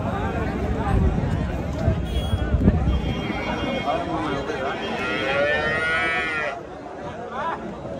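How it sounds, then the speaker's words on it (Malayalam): Cattle at the busy Erode cow market moo in long, drawn-out calls amid a crowd's constant chatter and shouting, the lowing rising clearly over the noise in the second half. "പശുവിന്റെ നടുവിലാണ് ഞങ്ങൾ നിൽക്കുന്നത്"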